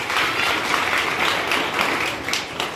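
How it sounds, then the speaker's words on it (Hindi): An audience at an annual school function claps continuously in a dense, steady round of applause, loud and fairly close, with no talking over it. "तालियां थोड़ी कम हो बज रही है"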